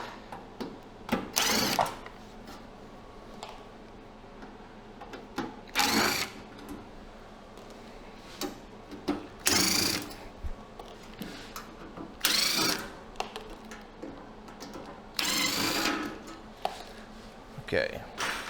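Screws being backed out of an induction forge casing, with short bursts of a small power driver whirring at intervals amid handling clatter and quiet background.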